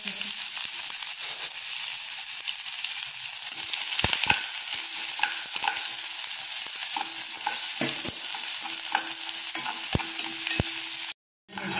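Mustard seeds, onion and green chilli frying in a pan give a steady sizzle with crackling pops and occasional stirring clinks, close and continuous.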